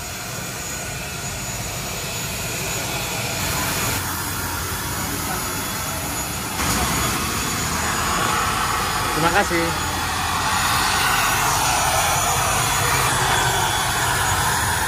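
A steady ATR 72-500 turboprop aircraft engine drone fills the air, close and constant, with a brief spoken phrase over it.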